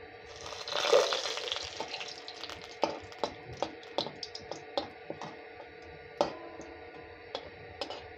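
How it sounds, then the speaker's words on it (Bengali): Two bay leaves go into hot oil in a pan while cooking a chutney, giving soft sizzling with sharp scattered pops and crackles spaced every second or so, with no talk. "তো এখন 2টো তেজপাতা দিয়ে দেব।"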